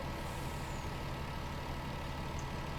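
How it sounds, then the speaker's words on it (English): Skip truck being parked in Farming Simulator 19: a steady low diesel engine idle drone with a continuous rumble, heard alone at a moderate level without talk. "So we're gonna park up the skip truck"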